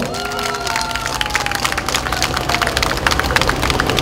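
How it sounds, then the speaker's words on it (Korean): Crowd applause at a candlelight rally outside the Financial Services Commission in Gwanghwamun, Seoul, a dense steady patter of many hands clapping with scattered cheers, loud and close, running continuously with no pauses. "박수 쳐주십시오."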